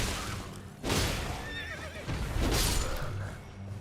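A horse in the video game Elden Ring whinnies in two sharp, quavering bursts close by, with a dull thud between them.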